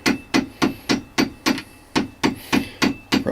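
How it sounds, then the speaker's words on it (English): A rubber hammer taps a cutter loose from its arbor on a Burke horizontal mill: a dozen firm, dull knocks in a steady, slightly uneven rhythm, close and alone with no talking. "I'll just take a rubber hammer and just tap that thing off there."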